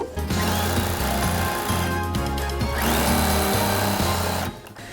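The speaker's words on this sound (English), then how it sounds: "put your quilt back underneath your needle and stitch straight down" A sewing machine stitches down quilt binding, its motor running in steady bursts with short pauses between runs, close and loud with no talk.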